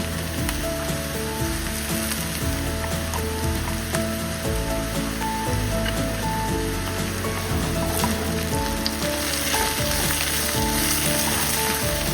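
A large batch of chopped onions hits hot oil in a pan with bitter gourd frying over high heat. The result is a loud, continuous, close-up sizzle that stays dense and steady throughout, with no talking.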